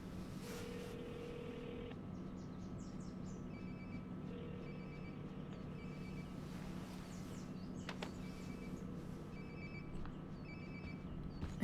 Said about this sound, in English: Sounds like my phone is definitely near.